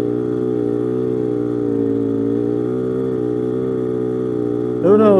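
A Polaris Scrambler 250 three-wheeler engine runs steadily at a loud, close idle with a constant low hum, then rises into a brief rev near the end.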